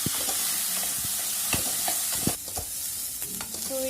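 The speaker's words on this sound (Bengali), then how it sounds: "রসুন, লঙ্কা আর পেঁয়াজটা আমি একটু ভালো করে ডিপ ফ্রাই করবো, ব্রাউন হওয়া পর্যন্ত আমি এটাকে ফ্রাই করবো।" Garlic, chili and onion deep fry until brown for Schezwan chicken, crackling loudly up close while a utensil stirs with quick repeated scrapes through the sizzle.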